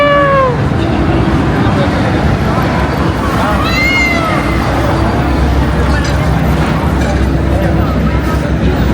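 A giant 3D billboard cat in Shinjuku, Tokyo meows over a loud, steady street din of traffic and crowd babble, with a few drawn-out cries standing out above the noise.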